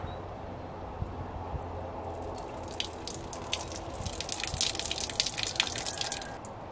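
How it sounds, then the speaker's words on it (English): Water is poured slowly from a glass microgreens sprouting jar, giving soft dripping and trickling that grows into a fuller, splashier flow toward the end, close and quiet. "So I'm just going to carefully pour the water out here"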